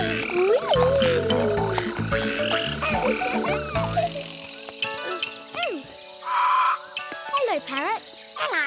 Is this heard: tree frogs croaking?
yes